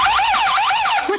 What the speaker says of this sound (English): It's the burglar alarms